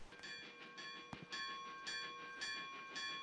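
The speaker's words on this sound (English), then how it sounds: "why is there a train in the middle of the sea?" A train runs along tracks in a One Piece anime episode, giving a faint rhythmic clatter with ringing tonal bursts repeating roughly every half second and a sharp click partway through, no talk over it.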